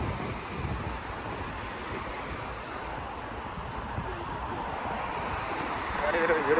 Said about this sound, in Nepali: शीतल हावा सरर आइराखेको छ